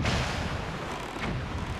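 A booming blast rolls out in the Zelda The Wind Waker video game as bombs strike a cannon, a brief, dense explosion with a rumbling tail and no voices.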